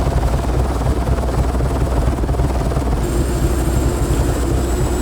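A helicopter in the video game Nuclear Nightmare thrums with a steady, loud rotor chop and engine drone throughout, with a high whine joining partway.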